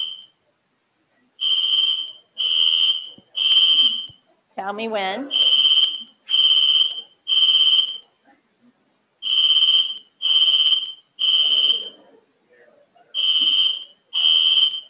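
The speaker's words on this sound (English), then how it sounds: "So true fire alarm." A fire alarm sounds during a medical lecture on transgender care, loud repeated electronic beeps in regular bursts with brief gaps, while a person speaks briefly over it.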